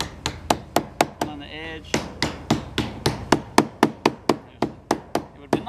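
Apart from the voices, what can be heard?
rubber mallet tapping a folded metal edge on a camper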